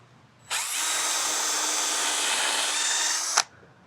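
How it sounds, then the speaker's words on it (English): A power drill pre-drilling deck screws whirs for about three seconds in one steady, loud burst, starting and stopping abruptly, close by. "They're self-drillers, but what I like to do is pre-drill it."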